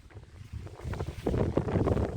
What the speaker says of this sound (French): Sous la pluie et le vent.